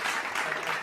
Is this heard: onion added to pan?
no